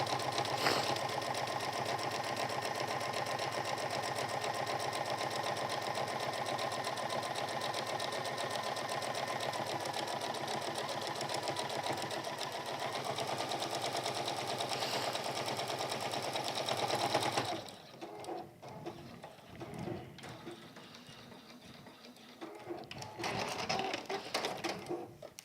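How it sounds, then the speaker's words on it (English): A sewing machine runs steadily, top stitching very close along the edge of a fabric hexie needle keep, a loud continuous whir for most of the stretch before it stops, leaving quieter handling sounds and a brief restart near the end. "And you are just top stitching. We're coming in really, really close along here."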